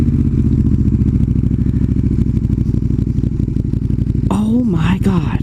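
A KTM Super Duke 1290 motorcycle rumbles loudly and steadily while being ridden, a close, dense engine drone throughout, with a rider's voice breaking in near the end.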